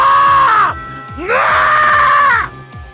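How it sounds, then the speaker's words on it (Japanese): A loud, shrill scream in a visual novel game, two long sustained cries in a row with a short gap between them, layered over a repeating rhythmic low tone in the background. "派手な悲鳴が上がるものの"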